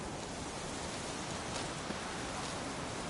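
Steady, heavy rain in the video game Witcher 3, hissing continuously with no breaks, a dense downpour filling the whole moment.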